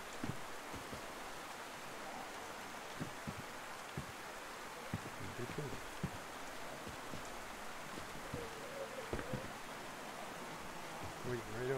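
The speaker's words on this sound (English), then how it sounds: "How long does it take for the rain to stop?" A constant hiss of rain falls in DayZ, with scattered soft low thumps and faint shuffling over the steady wash. It stays fairly quiet throughout.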